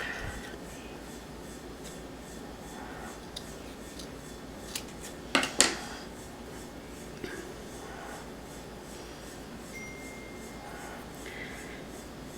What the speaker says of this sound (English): It's a little hard because it's kind of thick, but here I'm going to trim it into a petal shape.